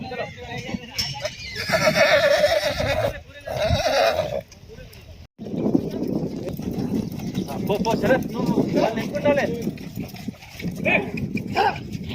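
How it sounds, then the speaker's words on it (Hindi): Horses at a stud farm in Mahbubnagar, India: repeated loud neighs and whinnies, with hoof clip-clops and a general outdoor farm clamour around them. "घोड़े हैं यहाँ पर"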